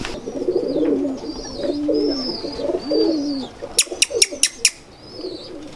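Soft, low cooing from pigeons repeats close by, with a brief run of sharp tapping clicks partway through and thin bird chirps in the background.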